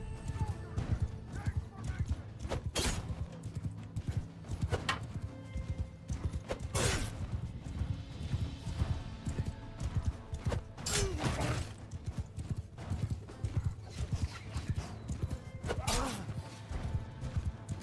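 A warhorse galloping into a charge in the video game Mount and Blade II: Bannerlord, rapid hoofbeats running throughout with occasional whinnies, layered over battle clatter, sharp impacts and indistinct voices.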